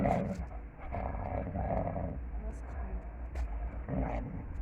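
A Kangal puppy growls continuously at close range over a bone, low and rumbling, with a few snarling bursts and light rustling.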